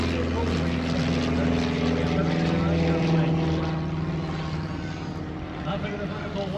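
Propeller aerobatic airplane performing rolls at the Lake Cumberland airshow: a loud, continuous buzzing engine drone with a wavering pitch that fades slightly near the end, with an announcer's voice over it.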